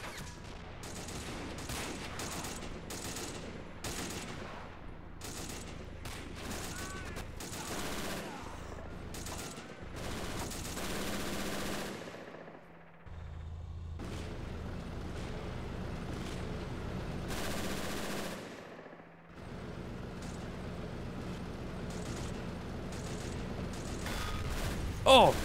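Gunfire in a WWII video game running the RobZ Realism Mod during a Pegasus Bridge assault: dense rapid rifle and machine-gun bursts with heavy booms, continuous battle noise that briefly drops out twice, loud and close.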